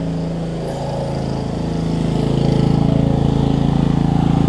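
A $25 Murray riding lawn mower running with flat tires, its small engine a steady close drone that rises in pitch and loudness partway through, then holds a faster chugging beat.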